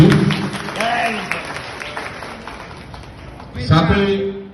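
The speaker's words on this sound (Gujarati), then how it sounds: "એમને પણ આપણે તાળીઓથી વધાવી દીધું." Audience applause at a community association's appointment felicitation in Ahmedabad, a moderate wash of clapping mixed with a speaker's voice over a PA, swelling briefly near the end.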